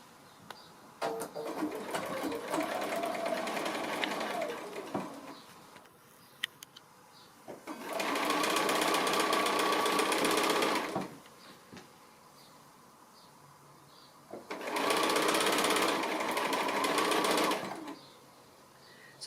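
Sewing machine stitching pieced quilt fabric for a 60-degree diamond block, running in three sustained bursts with short pauses between, close and steady.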